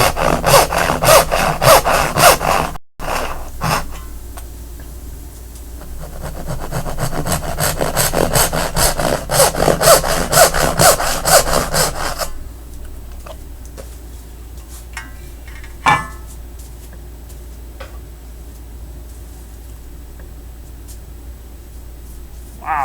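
Hand saw cutting dovetails at a 1:8 ratio in a wooden drawer during a live shop session, with loud rhythmic push-pull strokes for about twelve seconds, a short pause, then quieter scattered taps and scrapes.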